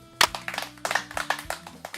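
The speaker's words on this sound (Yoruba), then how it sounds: "ẹ bá mi pàtẹ́wọ́ fún wọn" An audience at a Yoruba-language silage training session claps, giving a short burst of scattered, uneven hand claps up close, with a faint voice underneath.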